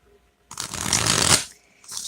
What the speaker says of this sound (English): Shuffling the cards here.